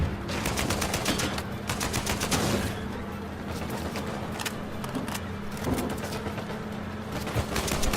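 Rapid gunfire in the video game Uncharted 4 rattles in fast repeated bursts, dense at the start and thinning into scattered shots over a steady background hum, fairly loud and with no voices.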